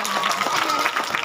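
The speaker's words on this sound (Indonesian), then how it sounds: "Tepuk tangan buat Baihaqi" Applause for a young man named Ahmad Baihaqi at an Islamic religious gathering in Simeulue, a short burst of dense clapping from a crowd with voices mixed in.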